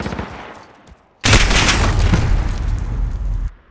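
An MP5 in Modern Warfare fires one loud, sustained burst of about two seconds, dense and close, after a quieter lead-in, then cuts off sharply.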